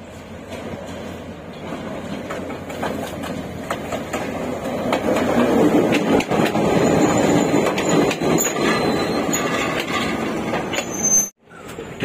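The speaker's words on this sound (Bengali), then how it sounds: "ট্রেন এসে দাঁড়ালো এই কেথালেল্লা স্টেশনে।" A passenger train rolls into Kithal Ella station in the hills near Ella, Sri Lanka, its steady loud rumble and wheel clatter filling the scene before cutting off abruptly near the end.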